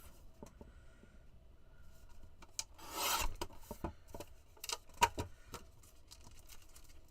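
Paper being trimmed for a handmade card, one side cut off, with soft rasping cuts and a louder burst of cutting around the middle, plus scattered small taps and clicks, no talking.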